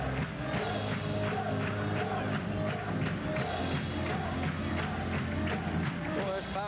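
A packed high school basketball crowd roars steadily through a close 1993 Pikeville vs. Johns Creek game, a dense continuous cheer with sneaker squeaks and a commentator talking over it.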